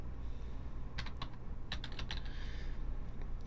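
Typing on a computer keyboard in a quiet room, with soft clusters of quick key clicks in short bursts and faint background hum between them.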